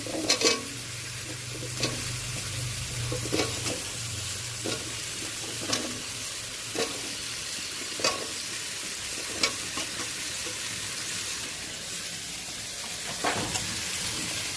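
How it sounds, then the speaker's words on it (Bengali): Cut potatoes being stirred while frying in oil with spices, a steady close sizzle with regular scraping strokes of a spatula against the pan every second or so. "এই কাটা আলুটা দিয়ে দিলাম, দিয়ে নাড়ালাম ভালো করে নেড়ে"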